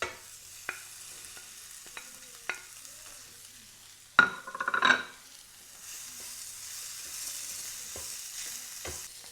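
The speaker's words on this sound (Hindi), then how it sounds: "अब कटे हुए आलू इसमें शामिल कर देते हैं" A spiced potato samosa filling is stirred in a pan over low heat, with soft scattered clicks and scrapes of the spoon, a louder clatter midway, then a quiet, steady frying hiss.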